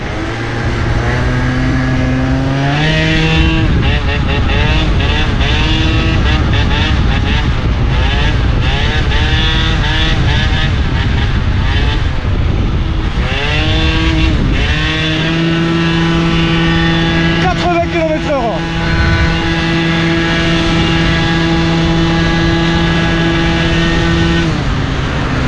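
A Piaggio Zip scooter with a Yasuni R exhaust buzzes along loud and close throughout, its two-stroke whine rising and falling with throttle changes, and it holds steady, high-pitched stretches between accelerations.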